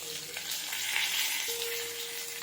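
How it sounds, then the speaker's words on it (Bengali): Katla fish frying in hot oil in a kadai gives a steady, close crackling sizzle that runs unbroken, with a faint tonal hum in the background and no voices. "এখন মাছটা উল্টে অন্য সাইডটাও ভেজে নিয়ে আসবো।"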